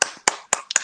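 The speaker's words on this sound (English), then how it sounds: "I need applause after that." Four sharp, separate hand claps ring out close by in an uneven rhythm, a small requested round of applause for a host on a holiday show, with no other sound between them.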